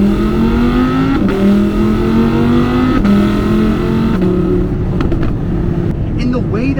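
A 5.2-liter V10 in an Audi R8 rises steadily in pitch as it revs toward 8,500 RPM, with brief dips at each gear change, loud and close from inside the cabin.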